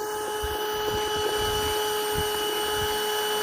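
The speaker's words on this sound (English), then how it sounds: "But look at this vacuum." A vacuum runs steadily while honeybees are being removed, a constant whine with strong steady tones and low rumbling underneath, holding at even loudness throughout with no talk.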